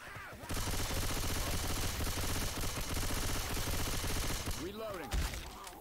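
Sustained rapid M16 rifle fire in the Left 4 Dead 2 Dark Carnival campaign, a loud continuous burst lasting several seconds before tapering off, with voices beneath.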